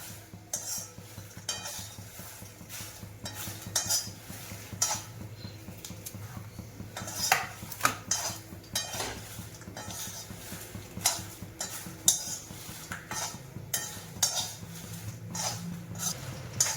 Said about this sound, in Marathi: हिला सतत हलवत राहायचे. हिला डाग पडले पाहिजे चांगले मिरचीला.